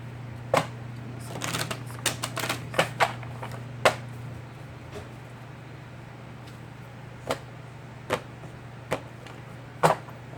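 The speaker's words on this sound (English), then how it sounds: "I'm going to shuffle them one more time." Tarot cards shuffle in a quick flurry of crisp riffling snaps early on, then a few separate card taps and flicks spaced out, close and distinct over a steady low hum.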